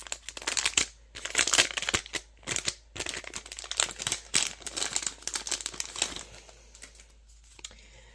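Crinkly plastic packaging around stickers is opened by hand, giving close, irregular bursts of crackling and rustling that fade toward the end.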